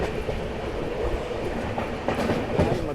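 Passenger train running slowly into Mathura Junction, heard from on board. Steady low rumble with soft wheel clatter over the joints, and no talking.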